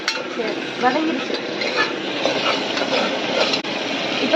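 A thick tomato rice paste is sautéed in a pressure cooker until its raw smell fades, giving a steady sizzle with scraping stir strokes, close and moderately loud, with a voice faintly present.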